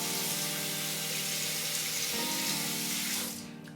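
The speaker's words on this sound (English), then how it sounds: "Pardon my rinsing." Steady running tap water rinsing a titanium safety razor at a sink, a broad continuous rush held close and loud throughout, then tapering off as the flow stops near the end.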